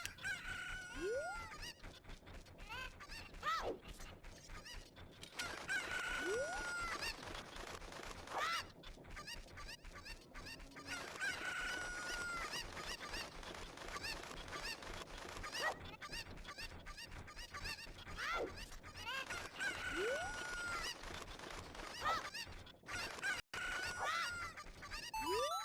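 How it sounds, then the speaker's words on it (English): Cuckoo chickens in a Zelda video game cluck and crow repeatedly, game-style fowl calls sounding over a steady busy background throughout. "the Cuckoos escaped"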